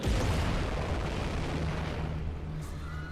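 An explosion from a talisman power in the video game Nine Sols: a loud blast up front that rumbles and fades over a few seconds into a low hum, with a brief faint chime near the end.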